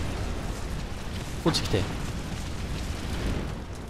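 An enemy blows up with a dull boom in the action game Nioh, set in a dense, noisy battle soundscape with a person talking briefly.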